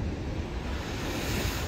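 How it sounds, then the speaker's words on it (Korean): Ocean waves break steadily on a shoreline at a fishing spot, a loud continuous wash of surf with wind noise on the microphone and no pauses. "여전히 이 동네는 파도가 이렇게 치고 있고"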